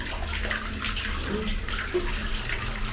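A tap runs steadily at home as water balloons are filled for Dhuleti (Holi), a continuous splashing gush that stays fairly close.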